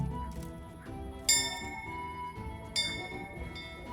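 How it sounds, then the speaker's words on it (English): A tavern bell rung in Kingdom Come: Deliverance, two bright metallic strikes about a second and a half apart, each ringing out and fading over soft, low background music. "you find yourself ringing the bell and closing the tavern."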